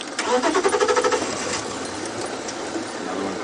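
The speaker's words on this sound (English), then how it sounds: "So please excuse that sound of the cars that are trying to get past for us." Vehicles on a safari drive rev and idle nearby, starting with a rapid rhythmic engine pulsing that settles into a steady rumbling hum with outdoor background noise.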